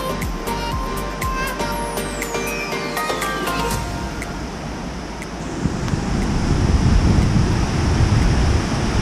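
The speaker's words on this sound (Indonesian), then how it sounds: "Nah, ini dia nih, air terjun yang saya cari-cari." The Binanga Bolon jungle waterfall in Simalungun gives off a loud, constant broadband rush of falling water. It fills the whole stretch without a break, with some early tonal noise fading out.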